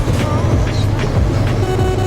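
A truck horn honks briefly in Euro Truck Simulator 2 on the Kirkenes mine road, over a steady rumble of engine and road noise, with faint voices in the background.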